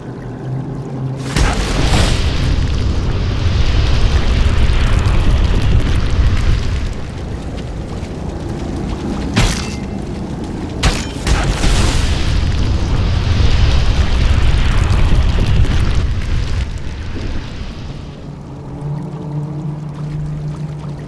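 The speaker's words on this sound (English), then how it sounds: "If you can get us close enough to the tunnel support beams, we'll blast them to smithereens!" Heavy explosions blast tunnel support beams in Warcraft III: The Frozen Throne, with loud rumbling booms rising and falling in long waves, punctuated by sharper cracks and debris, ending in a quieter tail.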